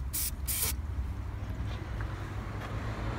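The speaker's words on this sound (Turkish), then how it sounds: "Ama yine dediğim gibi şu balata spreyi de aslında iş görür." Brake cleaner spray hisses in two short bursts near the start while cleaning parts of a Ford Focus 1.6 TDCi diesel during EGR valve work, followed by a steady low background rumble.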